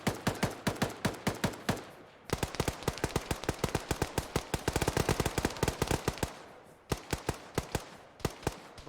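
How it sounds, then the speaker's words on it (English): Enemy weapons in the video game Synthetik fire loud, rapid automatic bursts, dense rattling volleys with brief gaps, close and dominating the sound with no speech. "enemy weapons fire"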